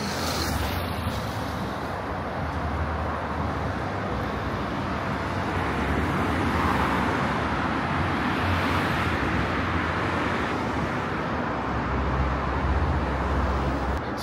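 Traffic rushes past on a highway near the Qatar–Bahrain border, a steady continuous roar of cars and trucks heard from close by, with no one talking.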